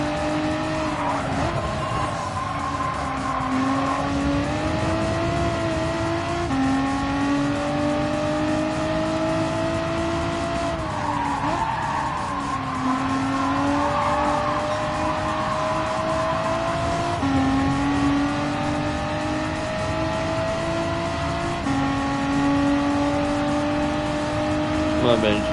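A race car in Gran Turismo 7 laps the short Brands Hatch circuit, its engine droning and rising and falling through gear changes, with tire squeals through the corners, loud and continuous.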